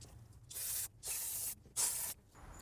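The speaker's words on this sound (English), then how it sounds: "I'm gonna also use brake parts cleaner just in some areas where I wanna make sure whether oil leaking from or not." Brake parts cleaner hisses from an aerosol can in three short bursts, each about half a second long and separated by brief pauses. The spraying is aimed at spots on a car around a transmission oil leak.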